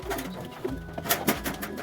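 Soft, low cooing from a pigeon, a few short coos repeated close by, with light rustling around them.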